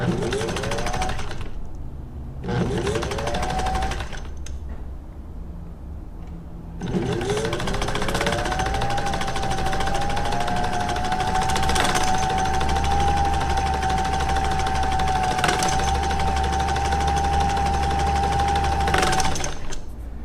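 A Singer 15-91 sewing machine runs in short starts and stops, then settles into a steady, close whirring hum with a faint rising whine, running alone without talk.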